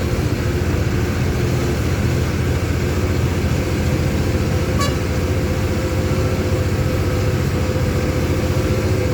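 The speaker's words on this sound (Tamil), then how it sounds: "வண்டி பார்த்தீங்கன்னா செகண்ட் கியரில் தான் ஏறுது" A vehicle engine drones loud and unbroken while climbing a mountain road in second gear through Rambha forest in Odisha, a close, steady roar with no talk over it.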